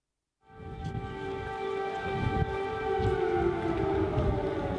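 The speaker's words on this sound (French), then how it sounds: "Sous le vacarme des sirènes d'alerte anti-aérienne" Air raid sirens wailing during a presidential visit to Kyiv, Ukraine, a loud sustained tone with layered harmonics that rises in abruptly and holds steady to the end.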